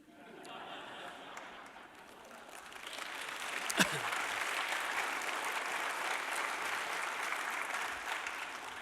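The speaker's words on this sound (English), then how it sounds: "I'm a little depressed that it took slamming the media to get you all to applaud." A forum audience applauds after a jab at the media, a dense, steady wash of clapping that swells midway and holds near and loud to the end, with a voice faintly under it.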